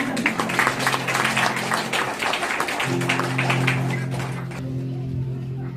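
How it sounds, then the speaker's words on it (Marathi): A crowd in a prayer hall during a communal prayer gathering gives a burst of applause, dense overlapping claps under a steady droning tone, the clapping thinning out and fading near the end. "या तिघांसाठी एक जोरदार टाळी झाली पाहिजे"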